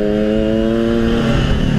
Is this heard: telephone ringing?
no